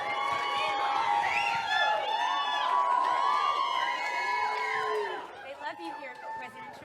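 A large crowd at a speech at the Moms for Liberty National Summit in Washington, D.C. cheers and shouts steadily at close range, then quiets into scattered calls and chatter toward the end.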